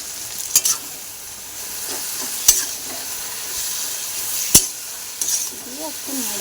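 Food fries in a pan with salt and turmeric under a soft, constant sizzle, while a utensil scrapes and knocks against the pan in a few sharp stirring strokes.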